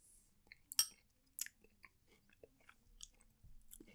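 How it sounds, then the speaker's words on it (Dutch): Crunchy chewing of a homemade Oreo McFlurry with biscuit chunks: a few sharp, close bites and crunches, then softer mouth sounds, with no talking. "Ik ga meteen gewoon het eerste hapje nemen."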